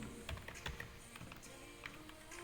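Quiet typing on a computer keyboard while a password is entered, with a scattered run of soft key clicks close by against low background hum.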